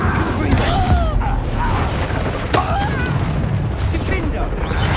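The Incendio fire spell from Hogwarts Legacy is cast amid game combat, giving booming bursts and pops over busy background noise. Someone speaks over the effects.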